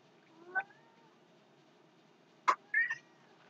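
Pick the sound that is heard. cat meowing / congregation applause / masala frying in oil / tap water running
cat meowing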